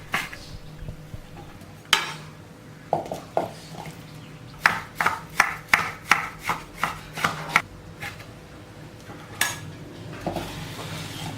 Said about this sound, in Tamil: வெங்காயமும் நீல வாக்கில் கட் பண்ணிக்கலாம்.